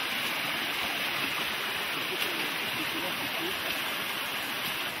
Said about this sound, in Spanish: Una cascada sobre un muro de rocas.